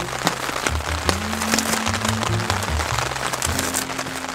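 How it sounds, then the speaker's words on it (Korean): Steady rain patters on a tent at a campsite nearby, a dense continuous hiss with scattered drops, over a low droning hum. "빗소리를 자꾸 더 들려주고 싶으니까"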